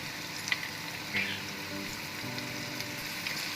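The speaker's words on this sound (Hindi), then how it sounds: "मसालों को अच्छी तरीके से हमने भून लेना है।" Spices with turmeric and cumin powder frying in oil for Gujarati khichdi, a steady close crackling sizzle with a few light stirring taps, no talking.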